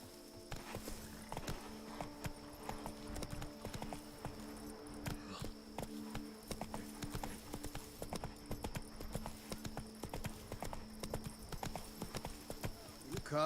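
Hooves of Roach, a horse in The Witcher 3 Blood and Wine, clip-clop in a steady rhythm throughout, mid-loud, under game music and a voice.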